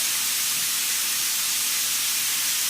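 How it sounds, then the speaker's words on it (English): About three pounds of lean ground beef frying in a pan, a steady loud hiss and sizzle that continues unbroken, with no voices. "I've got about 3 pounds of lean ground beef here, and we're just going to fry this up"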